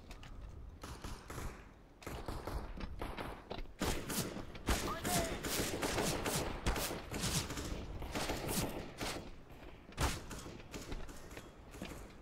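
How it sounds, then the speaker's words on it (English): Gunfire in Counter-Strike clatters as dense, repeated shots with mechanical clicks throughout, and a person speaks over the shooting. "Why are you shooting on me?"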